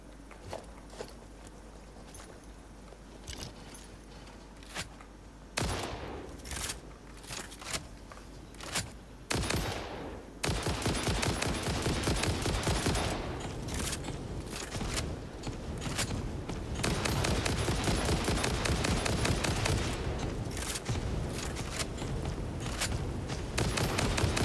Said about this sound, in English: With the Reaper gun you can actually kill these guys really easily